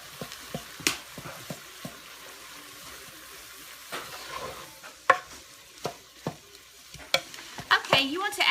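Onions and garlic sauté in a pan with a low, steady sizzle, broken by repeated sharp knocks and scrapes of a utensil stirring, growing busier toward the end.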